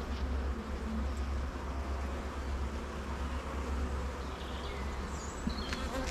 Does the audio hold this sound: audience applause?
no